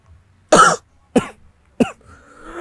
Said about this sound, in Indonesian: Aduh, gue nahan batuk.